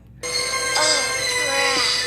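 A telephone rings with a bright, electronic trilling tone that starts abruptly after a brief silence and continues steadily, loud and alone.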